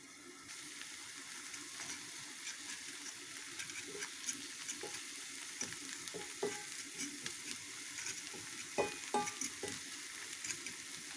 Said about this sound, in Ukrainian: Так, його трішки перемішаю з цією всією портулачком з цим, щоб воно якби перемішалося гарненько.